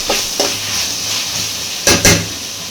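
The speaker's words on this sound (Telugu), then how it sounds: "ఇప్పుడు అంతా కలిసేలాగా బాగా కలుపుకోవాలండి" Ginger-garlic paste and curry leaves sizzle loudly in a pan for egg pulusu while a spoon stirs them. Four sharp scraping strokes come in two pairs, one pair early and one pair late, over constant frying hiss.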